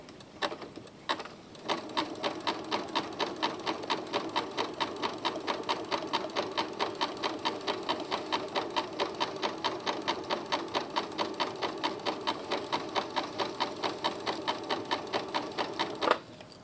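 A sewing machine runs steadily with a beading foot set to a 3mm zigzag width, its rapid even needle strokes ticking in a continuous rhythm for about fifteen seconds before stopping, close and fairly quiet with no talk.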